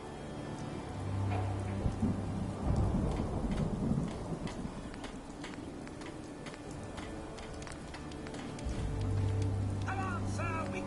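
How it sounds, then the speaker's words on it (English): Steady rainfall in Fallout 4 with deep rolls of thunder rumbling in and out, some faint chiming tones near the end. "Hope this rain lets up soon."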